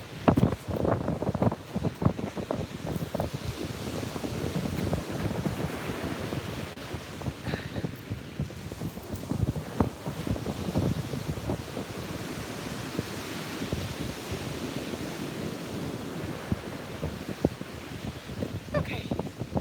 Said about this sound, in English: the waves are amazing. Stormy weather is exciting.